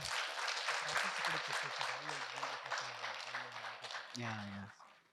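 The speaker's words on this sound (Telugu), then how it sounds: "మనం గట్టిగా చప్పట్లు కొట్టుకుందాం" A group claps loudly in a dense, continuous patter while voices call out over it. The applause runs steadily for several seconds, then fades at the end.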